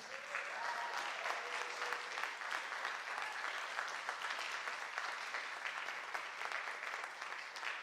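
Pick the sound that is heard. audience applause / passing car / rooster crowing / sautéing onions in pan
audience applause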